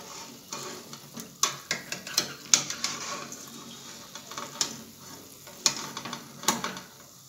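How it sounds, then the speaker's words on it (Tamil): Green pea vada patties frying in hot oil: a steady crackling sizzle broken by scattered sharp pops and spits, close by, with no one speaking. "இப்போ இதே மாதிரியே மீதி உள்ளதை எடுத்து தட்டி எண்ணெயில் போட்டு பொரிச்சு எடுத்துக்கலாங்க."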